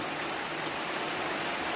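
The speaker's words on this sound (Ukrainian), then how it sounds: "а он який гарний дощ з неї йде." Steady rain falling in a village, a continuous even hiss of drops with no pauses, fairly close and moderately loud, heard alone without talk.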